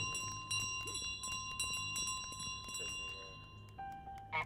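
Small bell rings out in Untitled Goose Game with sustained tonal tones over scattered clatter and light tapping, a brief new bell note entering near the end, fairly quiet and close.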